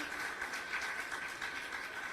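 A church congregation applauding to welcome a newcomer, a faint, steady patter of many hands clapping together at a distance.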